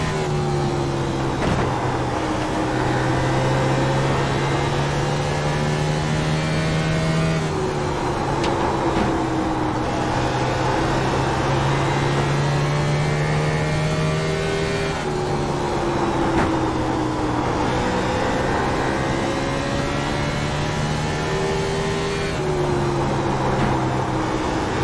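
A race car lapping Bristol in iRacing, a steady engine drone that rises in pitch along the straights and dips for the corners in a repeating cycle roughly every seven to eight seconds, loud and continuous.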